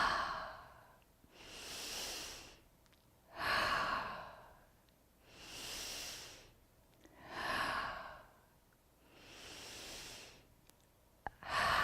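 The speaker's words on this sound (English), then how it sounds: "And breathe in deeply in through your nose and out through your mouth." Slow, deep breathing in a guided energy routine: five long, evenly spaced breath cycles drawn in through the nose and released through the mouth, close and soft, with nothing else audible.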